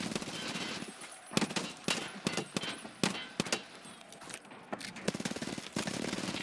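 Bursts of video-game gunfire in a hardcore game mode, with rapid machine-gun volleys and single sharp shots scattered irregularly across the clip. The firing comes in loud clusters with short gaps between them.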